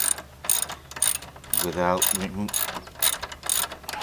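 A hand ratchet loosens the shock absorber bolt on a Triumph Scrambler motorcycle. It gives a close, loud run of quick clicking strokes with pauses between them.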